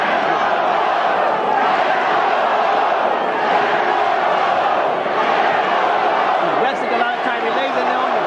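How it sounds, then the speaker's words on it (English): Large boxing crowd at ringside during the Riddick Bowe versus Evander Holyfield fight, a dense, sustained roar of chanting and booing that fills the arena without a break. "The other half of the crowd, or 2/3 of the crowd, started to boo."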